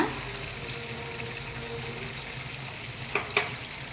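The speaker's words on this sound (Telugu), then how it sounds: "మనం పచ్చడికి పోపు చేద్దామండి" Cumin seeds frying in hot oil as tempering for Telangana-style mango pickle make a steady, soft sizzle with a few sharp pops, close and fairly quiet.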